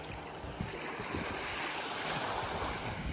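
Calm sea surf washing steadily on a shore with only a light breeze, a continuous broad wash of waves with faint wind rumble and no talking.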